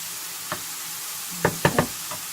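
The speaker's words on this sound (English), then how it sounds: "I'm just going to let that fry off gently for a bit" Mushrooms and dried peppers frying gently in a pan give a faint, steady sizzle, broken by a few louder clacks of stirring and scraping in the middle.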